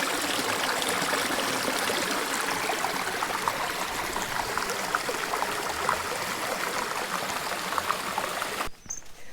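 A small stream of water flows steadily along a hiking trail near Collobrières, a close, continuous trickling and babbling that fills the clip before cutting off abruptly near the end.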